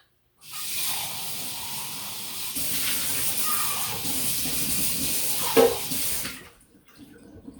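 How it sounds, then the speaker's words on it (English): Steady running water pours over wool yarn while it is rinsed, a broad hissing flow lasting about six seconds with a brief splash near the end before it shuts off. "Give that a rinse."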